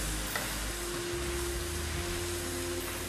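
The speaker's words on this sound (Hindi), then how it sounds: "अब इसको भूनेंगे मसाले को ताकि इसका कलर निकल जाए" Potatoes, tomatoes and spices fry in a pan for an aloo baingan dish, making a constant close hiss with a few faint stirring scrapes.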